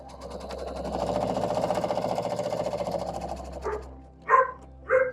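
A sewing machine stitches down the side of a pinwheel star quilt with a steady rapid mechanical whirr for several seconds, then stops as a puppy gives two close yips.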